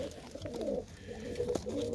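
Pigeons coo in repeated low throaty phrases, close and fairly loud, with soft background noise around a feeding spot.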